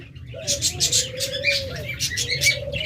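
A pair of red-beaked Fischer's lovebirds chirps in rapid, bright bursts close by, the calls tumbling in quick clusters over a steady whistling tone and a low background hum.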